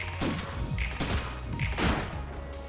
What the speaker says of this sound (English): That was a lot of nice gunshots.